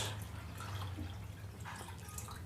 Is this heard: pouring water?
yes